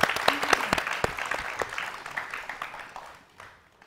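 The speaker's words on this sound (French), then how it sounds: "On applaudit s'il vous plaît." A studio audience at a talent show claps in a loose, moderately loud burst with distinct individual claps, and the applause gradually dies away over a few seconds.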